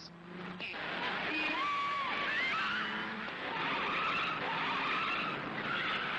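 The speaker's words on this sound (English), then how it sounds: "there were some spectacular crashes at Bathurst, including this horrifying flip at Skyline" Tires screech and skid at length amid engine roar and crowd noise, a race car sliding loudly at Bathurst's Skyline with a brief impact near the start.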